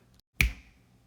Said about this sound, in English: I'm going to snap my fingers and find the derivative